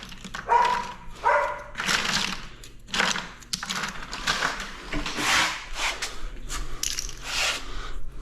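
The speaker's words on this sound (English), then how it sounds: "what are the doggies barking at?" Dogs bark in repeated, irregular bursts at moderate distance, with some light clattering and scraping in between.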